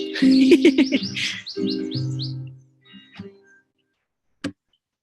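Birds singing outdoors, a quick run of bright chirps and trills up close for a couple of seconds, thinning into a few scattered calls and one sharp tick before quiet.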